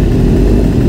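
A 2021 Honda CBR1000RR-R sportbike engine gives a loud, close, steady rumble for a brief moment.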